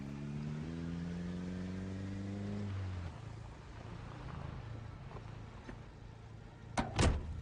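In the zombie survival game Project Zomboid, a car engine hums with rising gear-like tones as it drives, then fades to a low idle before a sharp mechanical clunk near the end.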